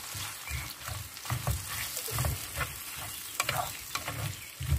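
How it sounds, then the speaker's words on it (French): Herbs and onions are stirred in a pan for a Moroccan chicken tagine with lemon and olives, a soft frying sizzle under repeated low scraping strokes in a steady rhythm, fairly quiet, with no speech. "Ben là, je remue."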